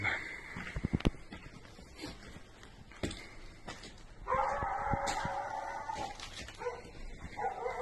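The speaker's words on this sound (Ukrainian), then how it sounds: "Борова зараз самі собаки." Several abandoned dogs bark and yip at a distance in war-damaged Borova, Kharkiv region, with a longer howling whine in the middle, scattered over a quiet outdoor background.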